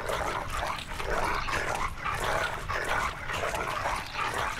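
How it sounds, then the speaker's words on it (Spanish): Dog whimpering and yipping in a Game of Thrones video game, a steady run of soft whines and small barks over continuous game sound, moderately loud throughout. "Sí, señor, ese perrito lindo."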